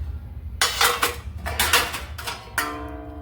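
Plates, including idli plates, are stacked for washing, giving several sharp clattering clinks in close, separate bursts with short quiet gaps.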